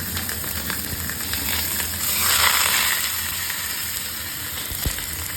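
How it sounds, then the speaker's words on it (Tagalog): Fish and ginger fry in a pan for soup, sizzling steadily and up close, with a brief louder surge of sizzle and one sharp clink near the end. "Ganito pag mag-fry ng fish, pang sabaw, ginger"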